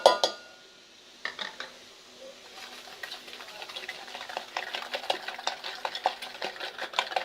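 Two eggs are beaten with powdered sugar in a bowl for a white cake, heard as rapid, rhythmic clinking and scraping of a utensil against the bowl, close and steady.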